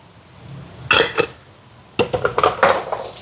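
A spoon stirs sautéed onions and pepper powder in a metal pan, giving two quick scraping clatters followed by a busier run of clinks and scrapes, close and fairly loud with no talk.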